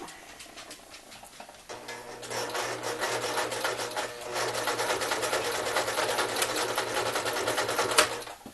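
A sewing machine stitches the side of a fabric phone pillow, starting after a quiet moment and running in a steady, fast mechanical whir for several seconds before stopping.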